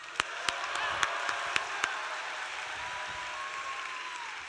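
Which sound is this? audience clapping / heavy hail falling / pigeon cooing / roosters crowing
audience clapping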